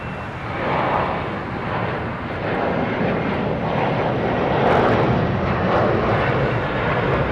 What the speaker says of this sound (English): we got a departure on 25 right.